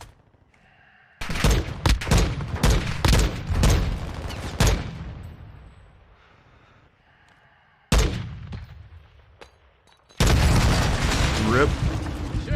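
Gunfire in Call of Duty: Modern Warfare 2 (2022): loud rapid bursts of shots with booming impacts, a pause, a single heavy blast, then a long sustained stretch of dense firing and noise.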